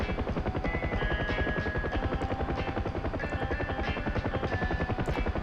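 Steady thumping rotor beat of a UH-1 Huey helicopter in the DCS flight simulator, a damaged aircraft after a crash, droning continuously with a whining turbine tone and a faint voice underneath.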